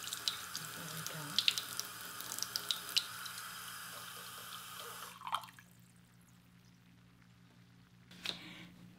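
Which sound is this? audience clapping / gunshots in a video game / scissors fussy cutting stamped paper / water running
water running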